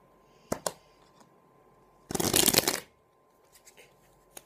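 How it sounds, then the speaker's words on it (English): A deck of cards is riffled in one quick, dense burst of rapid fluttering clicks, framed by a few soft taps and handling sounds. "that's the ruffle shuffle"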